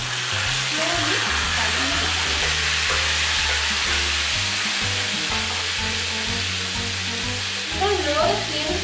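Masala with bay leaves frying in hot oil in a pan over a lowered flame, a steady close sizzle with faint stirring and a low background hum throughout, slightly louder bursts near the end.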